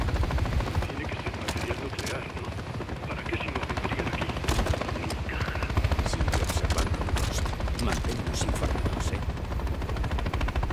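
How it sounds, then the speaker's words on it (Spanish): Helicopter rotor and rapid gunfire from a combat scene in the Modern Warfare 3 (2023) video game campaign, a dense, steady roar with sharp bursts of shots throughout. "Todo este tiempo había que destruir el helicóptero."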